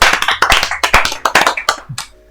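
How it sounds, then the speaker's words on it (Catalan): Applause from a small group at a presentation event, loud close hand claps in an uneven burst of about two seconds, fading out at the end. "moltes gràcies. Un aplaudiment."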